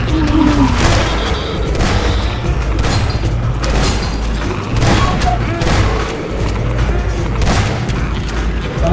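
Dense gunfire and booming blasts from a Garry's Mod zombie hunt pound on without a break, loud and close, with players talking over the shooting.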